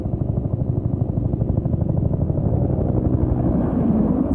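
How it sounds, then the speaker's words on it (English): A rescue helicopter from a video game drones steadily with a loud, continuous rotor thump and engine roar, close and unbroken throughout, with no voices. "Is that the evac chopper?"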